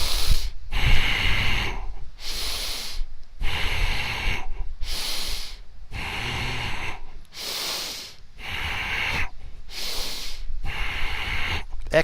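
People at a seated breathing exercise seminar take about nine sharp, forceful breaths through the nose in a regular rhythm, each a loud hissing rush separated by brief silences, with low rumbles beneath.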